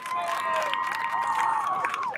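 A crowd at a senior night cheers and applauds, with sustained shouting and whistling over a steady wash of claps, loud and close.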